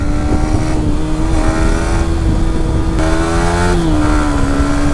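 A Yamaha R15 V3 motorcycle riding solo through the Morni Hills, its engine droning loud and close with rising and shifting pitch as the rider works through the revs, no talk over it.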